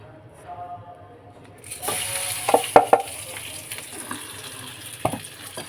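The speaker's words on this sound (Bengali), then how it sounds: "তেলটা আমার গরম হয়ে গেছে আমি এবারে চালটাকে ছেড়ে দেবো" Rice tipped into hot oil in a wok for spiced pilaf, a soft sizzle that rises after a quiet start, with sharp scraping stirs and clinks around the middle and near the end.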